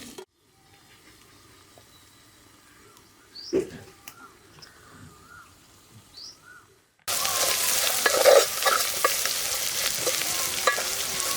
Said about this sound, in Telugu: పుల్లకోడి కూర వేస్తున్నా